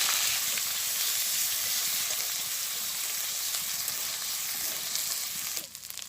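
Ground spices with dried red chilli, cumin and coriander paste sautéing in a pan for a village-style meat and potato curry, a steady close sizzle with occasional stirring that drops off slightly near the end.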